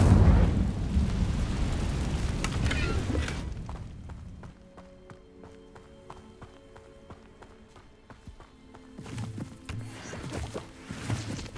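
An Incendio fire spell is cast in Hogwarts Legacy, a loud whooshing burst of flame opening the clip and dying away after a few seconds, followed by quieter game ambience and soft chimes before another swell of magical effects near the end.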